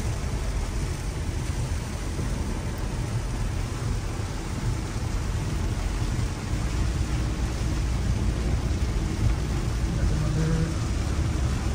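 Steady, dense rain roars throughout on a car driving at night on a highway, a broad continuous wash of noise with a low rumble underneath and no breaks.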